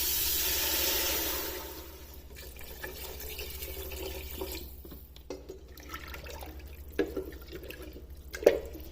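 About 2.5 litres of water poured into a pot of chicken bone soup stock, a steady splashing gush at first, then softer trickles and scattered drips and clinks.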